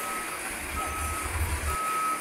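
Cargo wing van trucks rolling off a barge at a ferry port, with steady, evenly spaced reversing beeps over a low, rumbling truck engine and constant background noise.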